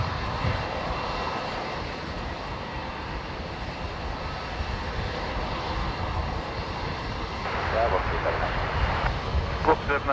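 A Singapore Airlines Airbus A350 jet departing Brisbane Airport, a steady broadband engine roar heard from a distance that swells slightly toward the end, with people talking over it.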